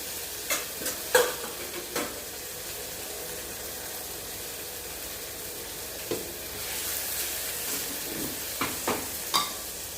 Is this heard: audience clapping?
no